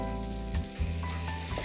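Ground turmeric, cumin and coriander powder sizzle and fry in a pan while being stirred for vegetarian tadka dal, a steady close frying hiss with a couple of brief scraping stirs.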